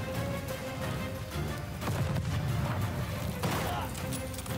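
Rifle fire in Call of Duty: Vanguard, a steady run of gunshots layered over dense in-game battle noise, moderately loud throughout, with no clear gaps between shots.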